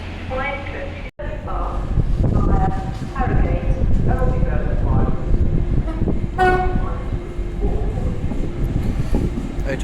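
A Class 185 diesel multiple unit pulls out of York station bound for Middlesbrough, sounding a very loud two-tone horn in repeated blasts over the steady roar of its engine, with station background noise throughout.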